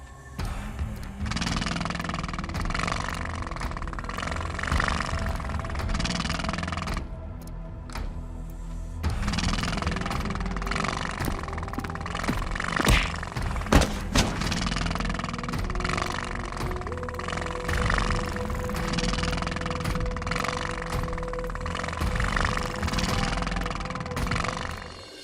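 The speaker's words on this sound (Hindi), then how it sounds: "तभी भूतिया बाइक तेजी से उसकी तरफ बढ़ती है।" A ghostly motorbike engine in an animated Hindi horror story roars and drones continuously with a brief dip partway, broken by a couple of sharp clattering hits, over eerie background sound.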